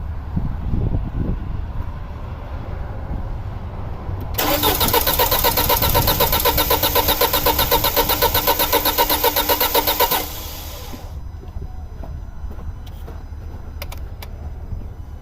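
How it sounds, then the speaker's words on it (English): A 2006 Audi A4 2.0T with a misfire fault sits quiet, then the starter cranks rapidly for about six seconds before stopping, with a low engine rumble around it. "I'm gonna go crank it again"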